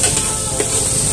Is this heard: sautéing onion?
yes